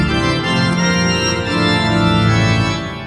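Large pipe organ, once Austria's biggest, playing a held, full chord progression with the nona mutation stop drawn, producing a loud, sustained, reedy and colorful tone with shifting harmonies and a brief dip partway through.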